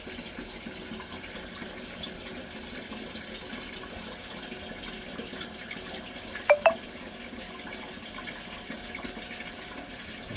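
Water runs steadily from a coin-operated piso water vending machine in Kawayan, Isabela, a continuous moderate stream with two brief sharp clicks partway through.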